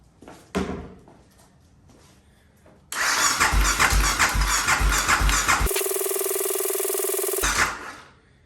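Can-Am DS650 ATV engine cranking over, a few faint clicks followed by several seconds of loud rhythmic starter chugging, then a sustained steady whir before it stops abruptly.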